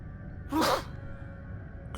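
A single quick sneeze rings out in a space trucking game session, one short sharp burst over a quiet background hum.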